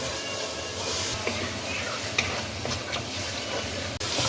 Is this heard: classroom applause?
no